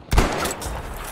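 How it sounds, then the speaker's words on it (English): Gunfire in the Battlefield 5 video game, a sharp close shot at the start followed by a rattling burst that fades into a decaying echo. "I'm going to try and shoot the people over at B. From inside here."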